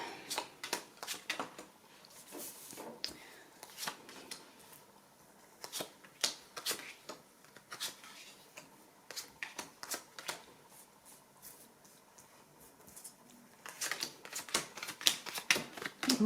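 Tarot cards being shuffled and handled, a long run of crisp riffling snaps and soft slides in irregular bursts, close and fairly quiet, with no talking.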